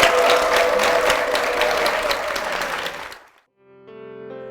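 A church congregation claps loudly after a sung praise performance. The dense applause lasts about three seconds, then falls off abruptly into silence, and soft instrumental keyboard tones begin.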